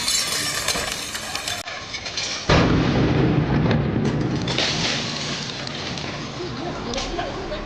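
A room explodes during a 2005 special police hostage rescue in Zhengzhou, Henan, producing a sudden loud broadband blast that rolls into a sustained roaring rumble, under a voice talking.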